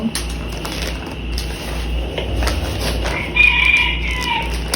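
A rooster crows at close range, one drawn-out call rising over a steady low hum and scattered household noise, with clucking fowl nearby.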